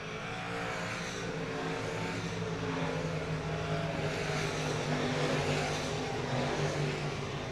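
Race cars lap an I-37 Speedway oval in a Factory Stock and Limited Modified heat race, a steady blended engine roar at moderate distance, continuous with no distinct pass-bys standing out.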